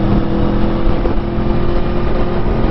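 A tuned Aprilia Tuono motorcycle engine with a Gabro Racing map runs at a steady, loud, continuous drone, holding a constant pitch with no clear revving swells.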